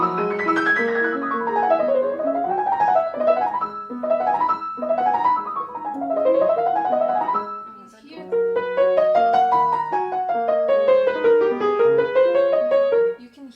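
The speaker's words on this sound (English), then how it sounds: "I'm going to use an example from Chopin's Third Sonata, the final movement." Piano plays the fast final movement of Chopin's Third Sonata, with rapid rising and falling runs in clear, close notes, a short pause midway, then more flowing passages, with no speech.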